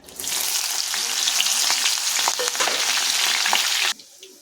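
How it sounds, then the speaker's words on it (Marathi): Green chillies fry in hot oil in a pan for Diwali puffed-rice chivda, a loud steady sizzle with crackles and stirring scrapes for about four seconds before it cuts off abruptly into quiet. "आता तळायच्या आहेत आपल्याला मिरच्या"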